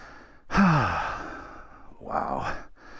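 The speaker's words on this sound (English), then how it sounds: "Sorry for the heavy breathing. I am out of shape." Heavy, labored breaths from a winded rider on a hillside stop, a loud sighing exhale up close followed by another breathy gasp, with no talking.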